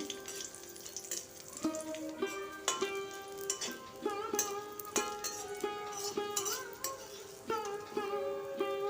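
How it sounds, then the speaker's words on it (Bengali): Ten to twelve unpeeled garlic cloves fry and brown in hot oil, giving a steady soft sizzle broken by light clinks of a utensil against the pan. "রসুনগুলোকে তেলে সেদ্ধ করে নেব বাদামি করে একটু ভেজে নিচ্ছি"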